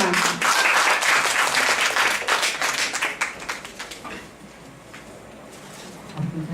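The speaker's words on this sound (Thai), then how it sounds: "เราขอปรบมือต้อนรับ" Audience applause at a church event welcoming a guest, dense clapping from a sizable crowd that fades out over several seconds into quiet.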